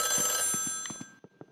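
A telephone rings in the Nintendo Switch game Luigi's Mansion 3 with a bright, sustained electronic bell tone that fades out, while soft footsteps or game effects tap along underneath.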